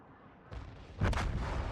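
Cruiser Cleveland detonating in World of Warships, a muffled boom at mid-clip followed by a louder, bright burst of explosion with a sustained rumbling tail.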